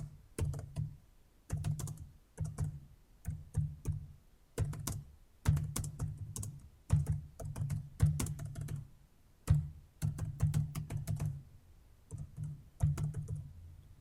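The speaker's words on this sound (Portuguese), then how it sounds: "vou digitar um texto qualquer" Rapid typing on a computer keyboard into an Excel 2016 spreadsheet, close and clear, with clattering bursts of keystrokes separated by brief pauses.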